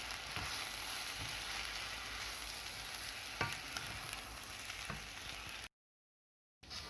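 Seasoned chicken and vegetable fried rice being stirred and mixed in a hot pan, a steady close sizzle with scraping stir strokes, then a brief silent gap near the end.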